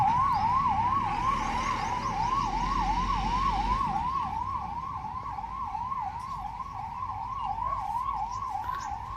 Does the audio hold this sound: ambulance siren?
yes